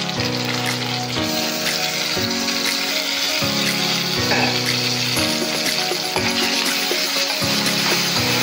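Tomatoes frying in hot oil for a crab curry, a loud, steady broadband sizzle that runs continuously under faint background music.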